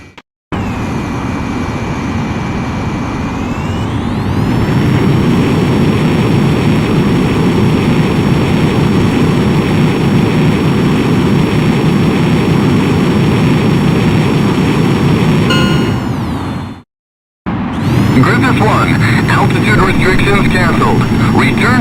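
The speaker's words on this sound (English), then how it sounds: "Griffith 1, you are cleared for takeoff." A fighter jet powers up for takeoff in Ace Combat X on PSP, its engine a loud, steady roar with a rising whine that holds for many seconds, cuts out briefly, then resumes with a crackle.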